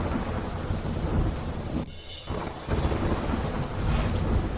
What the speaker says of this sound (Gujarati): ઝરમર વરસાદ અનેક વિસ્તારમાં પવન સાથે પડ્યો વરસાદ